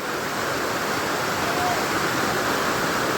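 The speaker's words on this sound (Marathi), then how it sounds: "भाई पाण्याचा फ्लो बघतोय का डायरेक्ट" Water flowing at Kachale waterfall, a steady, dense roar of falling water that fills the whole clip without a break, close and loud, with no voices over it.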